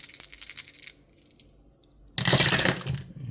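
Dice roll for a Strat-O-Matic tabletop baseball replay: a first rattle of tumbling dice, a quiet gap with a few small clicks, then a louder, close clatter as they spill and settle on a hard surface.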